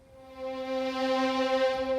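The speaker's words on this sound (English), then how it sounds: "For example, I've got just the violins 1 section." A section of sampled first violins sustains a single bright, steady note, the sound smooth and full with a slight swell in volume, played alone without any other instruments.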